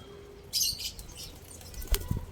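A bird's wings flap in a quick burst nearby, and a few softer flutters and a light thump follow in a quiet space.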